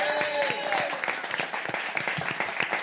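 Studio audience on a French radio show applauding, a steady wash of clapping with distinct claps, accompanied by a brief voice at the start.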